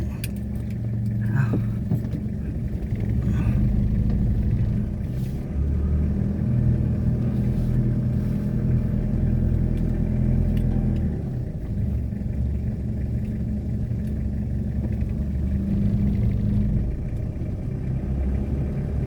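Car engine straining and revving in reverse up a steep slope where the wheels lift and lose grip, a steady loud low rumble throughout with rising pushes of throttle.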